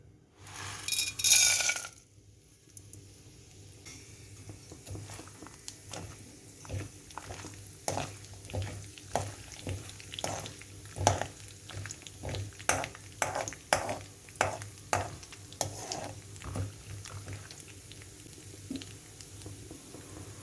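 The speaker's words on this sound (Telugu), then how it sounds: "పోపులన్నీ వేసేస్తున్నాను." Tempering spices pop and crackle in hot oil in a run of sharp, irregular bursts, preceded by a loud sizzle as they hit the pan, while making wheat rava upma.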